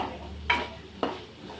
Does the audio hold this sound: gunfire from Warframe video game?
no